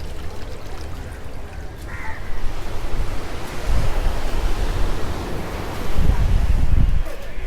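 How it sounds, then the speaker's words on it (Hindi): Sea waves surge against the shore at Mumbai near Chaitya Bhoomi, a continuous rushing wash with deeper rumbling swells building and receding, heard close and fairly loud. "यहाँ पर पानी कितना बह रहा है, मतलब लहरें देखो भाई कैसे"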